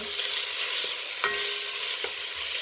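Garlic and meat fry in a pan, giving a steady, loud, close sizzle with a few sharp stirring clicks and no voices.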